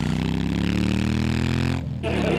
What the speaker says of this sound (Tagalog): Oh, may motor pa.